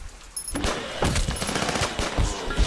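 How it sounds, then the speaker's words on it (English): Rapid bursts of gunfire crackle through a Zafehouse Diaries zombie-survival battle, dense overlapping shots and automatic fire sustained over a few seconds, loud and close with no voices. "I heard every gun firing there."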